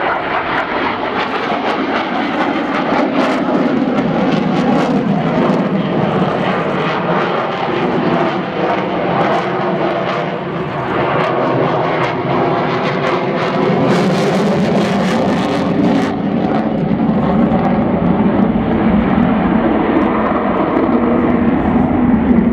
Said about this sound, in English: The aircraft slowing down now, flaps and undercarriage coming down for a touch and go.